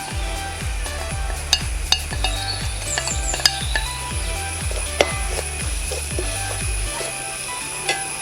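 Chili powder for beef lappa is stirred and fried in a pan, giving a constant sizzle with a regular, ratcheting scrape of a spoon sweeping the pan's base, plus occasional sharp taps against the metal.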